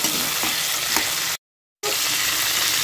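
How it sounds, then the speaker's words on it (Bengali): Steady, close crackling sizzle of cauliflower frying in hot oil, continuous apart from a brief cut to silence partway through. "ফুলকপিগুলোকেও ভালো করে আমি একটু লাল করে ভেজে নেব"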